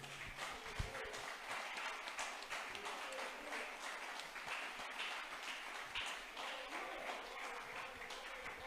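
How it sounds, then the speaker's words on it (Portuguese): A congregation claps during a church service, producing a long, even, faint spread of applause from many people that continues through the whole stretch. "Você pode aplaudir esse Deus?"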